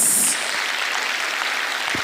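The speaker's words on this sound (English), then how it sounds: "I want us to give the Honorable Minister a round of applause" Applause fills a hall at a Lagos-Calabar coastal highway stakeholders' meeting, a dense, even wash of many hands clapping together at moderate loudness without speech.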